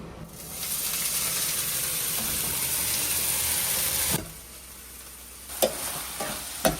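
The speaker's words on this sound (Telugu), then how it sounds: "ఇప్పుడు ఇదే ఆయిల్లో ఈ రొయ్యలు వేయించుకుందాం" Dried shrimp frying in hot oil in a pan for an egg curry, a steady close sizzle with stirring that drops off sharply partway, followed by a few brief clinks and scrapes.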